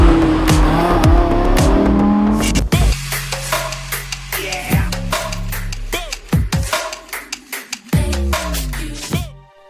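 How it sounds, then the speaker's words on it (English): An Audi R8 V10 Performance supercar engine roars loudly and up close, surging and revving through sharp bursts, with abrupt cuts and tire squeal between throttle blips. "This is the Audi R8 V10 Performance."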